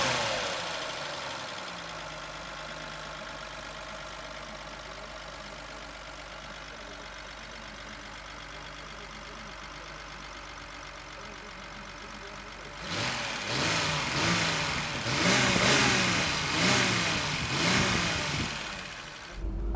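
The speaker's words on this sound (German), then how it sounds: "Jetzt starte ich mal den Wagen, damit ihr mal hört, was der für einen schönen Klang hat." A 1954 Mercedes 220 Cabriolet A engine starts and idles with a steady low rumble, then revs up louder in several surging bursts before settling back.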